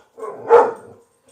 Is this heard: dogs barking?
yes